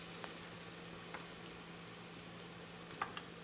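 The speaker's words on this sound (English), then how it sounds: "So next we're gonna add 4 spoons of ginger garlic paste" Ginger garlic paste for mutton biryani goes into a cooking pan, raising a soft, steady sizzle with a few faint spoon taps, quiet and close.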